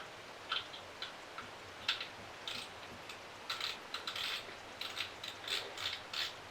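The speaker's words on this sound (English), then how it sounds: "I'm going to slide my spool back on." A spool sliding back onto a spinning fishing reel during maintenance gives off a series of small, close clicks and light scraping ticks, irregular and spaced through the moment, with no talking.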